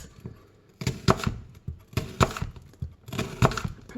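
A knife finely dices onion on a cutting board, with irregular clusters of sharp chopping taps and thuds, fairly close and clear, with no talk.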